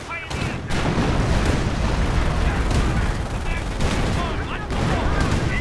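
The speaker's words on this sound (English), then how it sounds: "And artillery being called in right there on the American strong point that is actually left." Artillery fire from a video game pounds an American strong point in a continuous, dense barrage of booms and crackling blasts, steady and loud throughout with no clear gaps.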